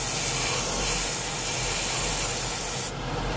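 A spray paint can sprays black paint onto a model in one continuous, close, loud hiss that cuts off abruptly near the end.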